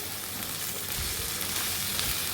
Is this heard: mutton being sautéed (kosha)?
yes